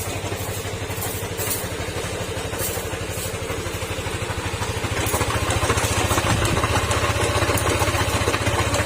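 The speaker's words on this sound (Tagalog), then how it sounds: "Ito yung NMAX na version 1. At uh, medyo maingay yung makina niya." A Yamaha NMAX 155 version 1 scooter engine idling noisily, a close, steady low throb with a rattling, clattery edge that grows slightly louder partway through.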